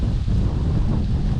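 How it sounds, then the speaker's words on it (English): Strong gusts of storm wind rush across a choppy lake at Little Bow Reservoir, a dense, steady roar buffeting the microphone with low rumbling and the wash of waves, and no one talking. "But the storm is definitely here. It's really windy."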